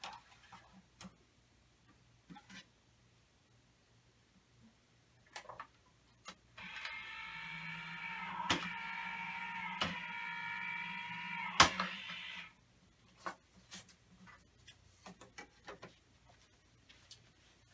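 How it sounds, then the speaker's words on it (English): A die cutting machine cutting paper: scattered mechanical clicks and knocks, then a steady whirring hum lasting several seconds with sharp clacks in it, followed by more sparse clicks, moderately close. "So let me step over to my machine and get this cut."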